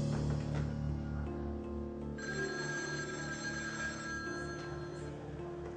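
An old-style telephone bell rings steadily with a sustained tone over a low background hum, with no voices heard.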